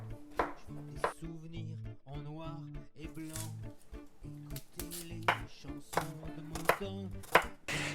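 Butternut squash is being cut into small cubes on a board, with a string of close, sharp knife chops in a fairly steady rhythm, some quick clusters, and low musical tones underneath.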